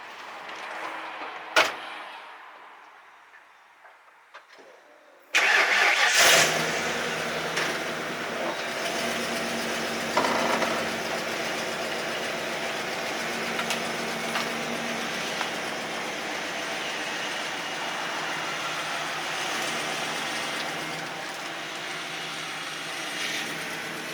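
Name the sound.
vehicle engine starting and idling to move trailer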